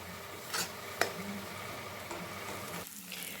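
A ground dried-chilli spice paste is stirred and fried slowly over a low flame for chitol fish kalia, giving a soft continuous sizzle broken by a few scraping stirs and a sharp clink of the spatula.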